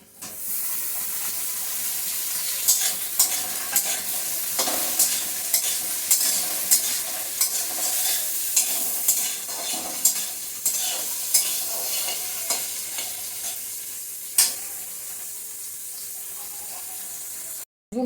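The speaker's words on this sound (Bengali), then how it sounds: "এখন এটার সাথে আমি পনিরগুলিও একটু হালকা নেড়ে চেড়ে তুলে নিচ্ছি।" Paneer pieces are gently stirred and fried in oil in a kadai alongside fried potato and carrot, giving a steady loud sizzle broken by frequent light spatula scrapes and clicks throughout, with no talking.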